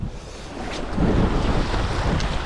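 Wind gusts and breaking waves at a breakwater during night rockfish fishing, a steady rushing roar with surging swells and wind buffeting the microphone, no voices.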